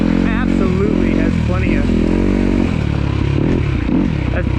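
A 2026 Kawasaki KX250 dirt bike engine runs loud and close, its buzzing pitch rising and falling with revs under steady engine noise.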